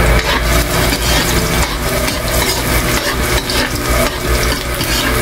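Garlic frying in hot oil in a pan, a steady loud sizzle with stirring and light utensil scraping running without a break, no voices over it.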